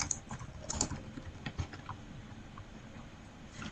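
Quiet, quick keyboard typing while coding a button in HTML and CSS, a soft patter of close keystrokes that thins toward the end.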